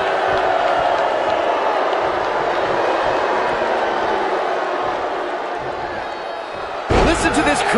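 Dense roar of a large arena crowd cheering in the WWE 2K19 wrestling game, steady and loud throughout, with a brighter burst of noise near the end.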